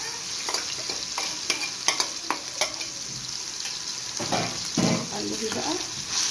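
Onion and chicken frying in a pan with a spoon stirring through them, giving a steady sizzle broken by scraping clinks and brief louder bursts of frying. No one speaks.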